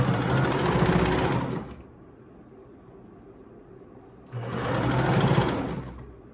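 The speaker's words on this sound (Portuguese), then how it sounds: "tô costurando com a capa aberta e vou passar o restante do grelô por cima daquela costurinha" A sewing machine stitches a Christmas cushion cover along the fabric seam, running in two steady whirring bursts separated by a quiet pause, close and alone.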